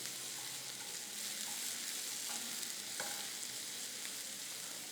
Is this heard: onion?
yes